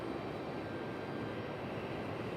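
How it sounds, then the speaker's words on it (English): A loud, steady roar from an ATR turboprop airliner's engines at Raleigh-Durham International Airport, a continuous broadband drone holding level throughout with no voices. "But I do hear our ATR. Our ATR is very, very loud."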